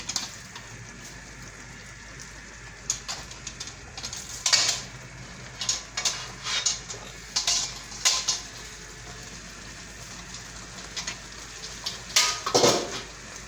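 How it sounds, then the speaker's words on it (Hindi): Spaghetti being added to gravy in a pan and stirred in, heard as intermittent scraping and clinks of a utensil against the cookware, moderately close, in irregular clusters over a faint background hum. "अभी हम स्पैगेटी इसके अंदर ऐड करेंगे।"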